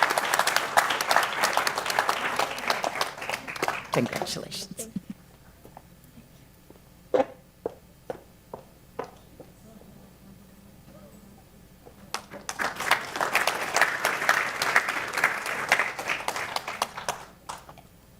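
Audience applause at a scholarship fund award ceremony: a burst of crowd clapping fades out, leaving a few scattered isolated claps, then a second full round of applause swells up; a brief spoken word occurs amid it.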